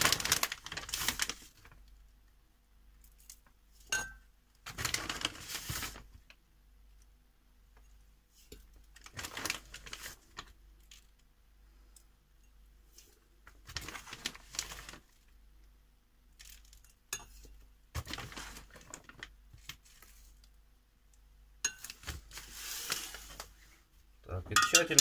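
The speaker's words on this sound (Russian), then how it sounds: "Тщательно перемешиваем." A spoon clinks and scrapes against a glass jar in intermittent bursts of stirring sugar into tea for kombucha, separated by quiet pauses, close by.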